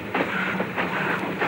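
Steam train running on an Indonesian railway branch line in the highlands, a steady rhythmic clatter of wheels over rail joints with a soft hiss of steam, close and continuous.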